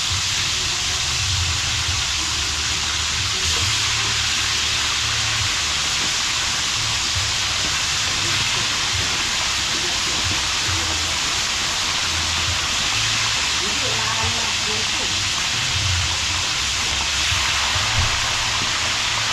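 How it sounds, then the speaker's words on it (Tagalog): Rain falls steadily during an outdoor cooking session, a continuous dense hiss that holds at an even level with no talking throughout. "Umuulan na naman."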